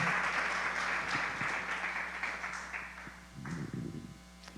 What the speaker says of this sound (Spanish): Más fuerte, allá en sus casas, aplaudan al Señor